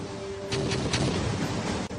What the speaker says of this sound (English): This is the sound of thunder,